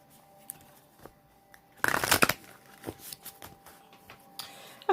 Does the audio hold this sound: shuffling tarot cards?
yes